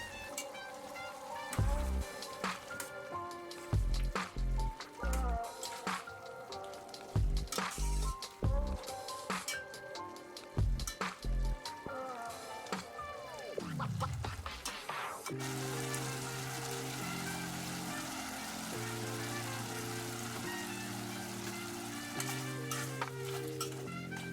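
Beef tendon and konjac simmering in a pot and being stirred, with irregular scraping and clattering of a utensil, then a steady bubbling sizzle of the reducing liquid, no talking.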